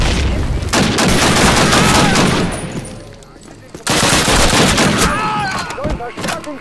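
Dense automatic gunfire and explosive bursts in a Call of Duty battle, loud and close, rattling in two long stretches with a short lull between.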